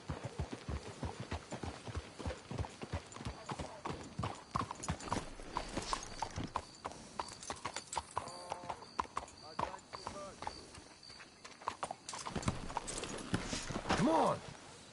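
Horse hooves clip-clop in a quick, steady rhythm in the video game Red Dead Redemption 2, with people talking over them, and a brief whinny near the end.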